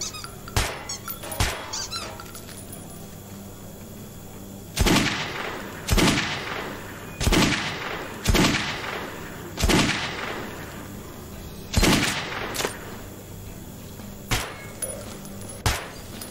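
Gunfire at a firing range in Metro 2033: single shots spaced a second or more apart, a few early and then a steady run of sharp reports with short reverb tails, fairly close, with no talking.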